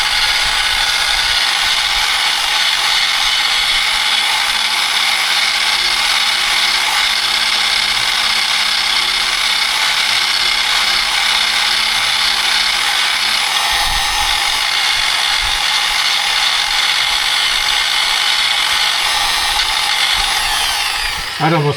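A power drill fitted with a sanding drum grinds steadily for about twenty seconds, loud and continuous with a harsh whine, while working on a cargo trailer being converted into a dirt bike camper.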